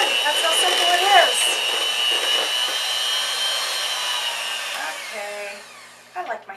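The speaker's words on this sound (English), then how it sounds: "I like my hand mixer." An electric hand mixer whirs steadily while beating chocolate raspberry cheesecake batter, a loud, close motor drone with a shifting pitch that stops near the end, followed by a few faint clinks.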